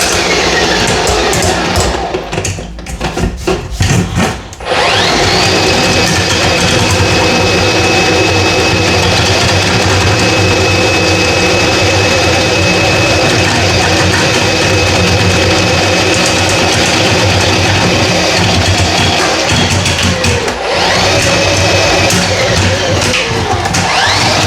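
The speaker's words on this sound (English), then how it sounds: "You guys see I'm using the Milwaukee M18. I have a 1/4 inch cable here." A Milwaukee M18 drain snake with a 1/4 inch cable works a clogged urinal, giving a loud, continuous motor whir and cable rattle that runs almost unbroken, dipping briefly near the start and again later.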